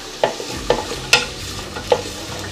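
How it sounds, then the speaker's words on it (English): Vegetables and garlic sauté in butter for a pumpkin soup, a low steady sizzle broken by four sharp spoon knocks against the pan at roughly even intervals, close and fairly loud, with nobody talking. "you just wanna go and saute these vegetables until they're translucent"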